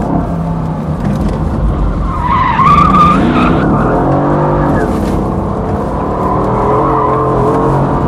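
A Mercedes-AMG GT S with a 510 hp V8 skids with traction control switched off, its tyres squealing for about two seconds over a steady engine roar that continues to the end.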